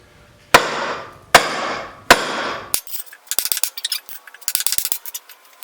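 A small chisel struck with a hammer into a large, not fully dry piece of firewood: three sharp, ringing metallic blows at even intervals, then a quick rattle of lighter taps and clinks, close and loud.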